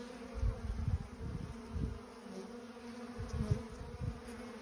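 Honey bees massed on top of the frames in a nuc hive give a soft, continuous low buzzing drone with gentle swells, close and quiet, with no talk.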